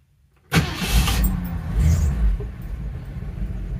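A 1962 Mercury Comet engine cranks and fires abruptly after a silent moment, then settles into a loud, rough rumbling idle heard up close.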